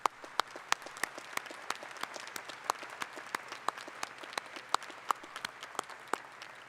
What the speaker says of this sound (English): let's give our incredible faculty a round of applause